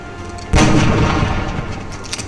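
A single loud sniper rifle shot from the XCOM: Enemy Within video game booms sharply, then decays into a rumbling tail over a constant background hum.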